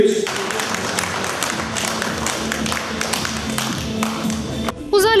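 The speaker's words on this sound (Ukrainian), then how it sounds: "аплодують герої полів" Steady, dense applause from a crowd in a village house of culture at a harvest festival, continuous clapping throughout with a brief whistle-like tone near the end.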